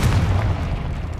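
A Confringo blast spell detonating in the video game Hogwarts Legacy, a loud, dense low boom that opens hard and rumbles steadily for just over a second before easing slightly.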